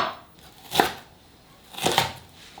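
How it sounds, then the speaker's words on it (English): A knife roughly chopping an onion on a board for a plant-based family dinner, two separate crisp cuts about a second apart, close and fairly quiet. "And then I'm just gonna roughly chop this onion."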